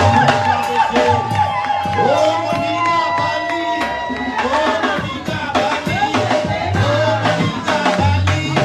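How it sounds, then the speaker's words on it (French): Wedding guests cheer loudly together, a dense crowd roar with whoops and shouts that holds at full strength for about nine seconds, with a few voices calling out over the mass. "On acclame très fort."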